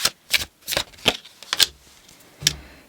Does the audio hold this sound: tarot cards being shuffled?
yes